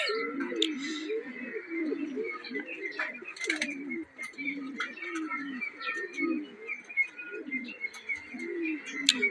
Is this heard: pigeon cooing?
yes